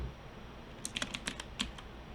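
Several keystrokes tapped on a computer keyboard while entering a layer name in graphics software, a short irregular burst of light clicks heard close up and alone.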